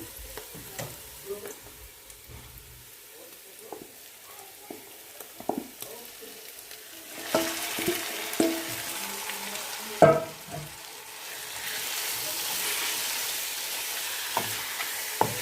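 Marinated mutton tipped into hot oil in a pan for mutton pulao and stirred, scattered spoon knocks and scrapes followed by a louder, steady sizzle that builds, close up with no speech.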